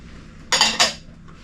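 Chorizo being stirred into Spanish rice in a one-pot dish, heard as two quick close scrapes of the spoon against the pot, alone and brief.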